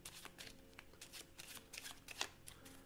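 Two piles of playing cards are mixed together in a soft, quick riffle of crisp card flutters, with brief ticks and snaps close up and no talking.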